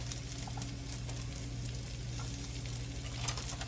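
A stick of butter and garlic with onions sizzling in a pan for surimi crab meat, giving an even, quiet, continuous hiss and crackle with a low hum underneath and no talking.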